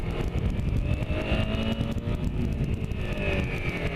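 A Honda CBR250R motorcycle engine drones while being ridden, a steady mid-pitched hum with shifting tones as the throttle varies, mixed with wind rush, close and continuous with no voices.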